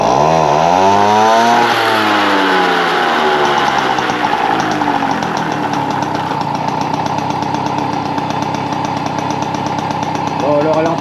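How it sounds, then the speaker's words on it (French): A Peugeot 103 moped fitted with a lightened clutch drops from a revving rise into a raspy, buzzing two-stroke idle that sits a little high, loud and close, continuing steadily. "le ralenti est un peu haut, on va le baisser"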